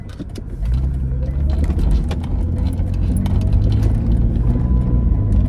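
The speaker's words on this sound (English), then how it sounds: "There's like a lot of traffic right here right now." A car drives through busy traffic with a steady low engine and road rumble, scattered clicks and knocks above it, and no talk heard.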